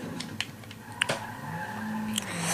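A Panto car drifting in a video game, its tyres skidding and squealing steadily over an engine hum, with a few short clicks scattered through.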